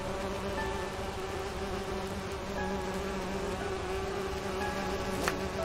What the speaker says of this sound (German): Ich hoffe, Bienen sind gut.